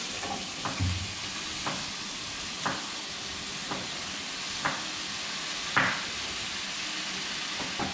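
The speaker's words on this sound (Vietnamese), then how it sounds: "Nấm của chúng ta đã xé nhuyễn rồi thì chúng ta cho vào." Shredded mushrooms and leeks cooking in oil in a pot, a steady close sizzle with soft regular knocks of a utensil stirring about once a second, no talk.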